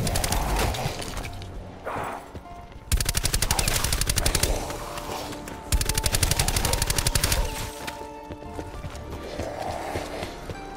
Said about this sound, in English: It is a machine gun. It's an LMG.